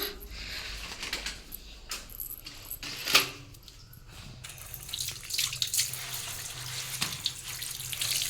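Tap water runs steadily over freshly picked vegetables, including a ridge gourd, being washed at a sink, with clinks and brief splashes rising over the continuous flow.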